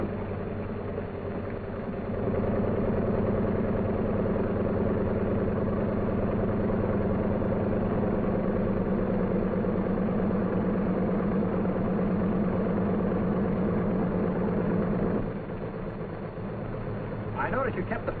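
Engines of a 1944 troop carrier airplane drone steadily at idle in a cockpit, a low, even hum that swells after a couple of seconds, holds for a long stretch, then drops back near the end.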